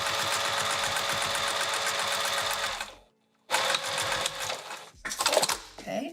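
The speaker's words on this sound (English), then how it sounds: "Okay, top stitch that one." A sewing machine top stitching a key chain pouch runs in a fast, loud mechanical rattle, stops for half a second, then resumes in two more bursts of stitching.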